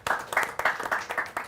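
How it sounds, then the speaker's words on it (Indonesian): A brief round of applause at an Indonesian migrant worker policy event, with hands clapping in a quick, uneven patter nearby for a second or two. "Kita beri tepuk tangan kepada Pak Dwi."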